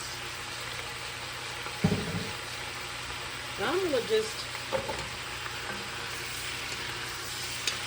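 Steady sizzling of lettuce salad ingredients frying in grease in a pan runs throughout, with someone speaking briefly over it and a few utensil clinks.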